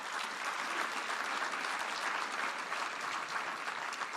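Steady applause from a large audience at a USGLC tribute event, dense continuous clapping that holds at an even level throughout without voices breaking through.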